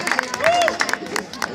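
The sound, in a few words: audience applause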